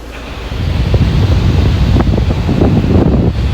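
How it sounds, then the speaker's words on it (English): Air conditioning blows inside the cab of a 2018 Ford Transit 2.2 TDCI bus, a loud, rushing broadband airflow that swells up within the first half second and then holds steady, close to the microphone. "And then obviously you got the air conditioning."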